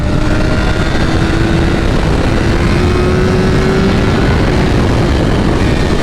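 A BMW S1000RR superbike engine drones loud and steady at high revs, dense and continuous with wind roar, while the rider shifts up into third gear.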